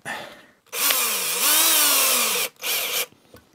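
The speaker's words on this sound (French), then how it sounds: "Je visse, mais je ne serre pas, comme ça me permet d'ajuster." A power screwdriver drives screws fixing a standing desk frame to its tabletop, two close bursts of loud whining motor drone with pitch shifting under load, separated by a brief pause.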